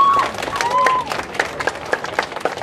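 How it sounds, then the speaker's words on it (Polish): A crowd applauding at a street protest against ACTA 2 internet censorship. Scattered claps come with some crowd noise and a brief whistle-like tone, loud at first and then thinning into separate sharp claps. "I brawa dla kolejnego odważnego!"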